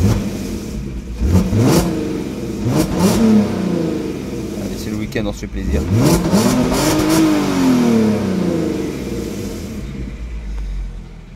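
A Volkswagen Golf R32 4Motion engine revs repeatedly, rising and falling in several loud, sweeping blips with a deep rumble, while someone speaks over the sound.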